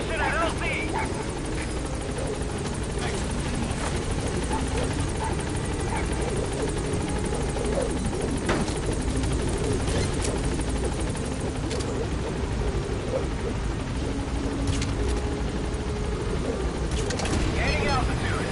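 Helicopter in a Metal Gear Solid V game arriving at a landing zone and climbing, with a loud continuous rotor drone and engine roar throughout, while radio-style voices talk over it.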